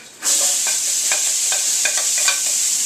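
Chopped, diced onion drops into hot bacon fat in a pan and bursts into a loud, steady sizzle. Stirring scrapes and clinks come through the close frying hiss, with no talk.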